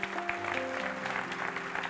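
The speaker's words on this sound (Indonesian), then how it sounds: "Kasih tepuk tangan Tuhan." Church congregation applauding, a broad continuous wash of clapping with sustained musical tones running underneath throughout.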